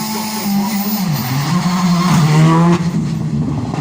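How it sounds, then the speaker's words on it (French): An R5-class rally car at the start of a special stage at the Rallye de l'Indre screams away under hard acceleration, its loud engine note rising and shifting as it pulls off, with no voices. "C'est la façon dont démarrent les voitures de classe R5."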